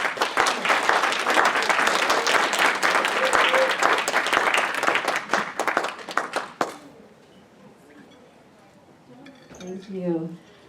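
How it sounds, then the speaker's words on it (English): Sustained applause from a crowd fills the room, dense clapping that cuts off abruptly, followed by a brief quiet voice. "If we could give him a round of applause."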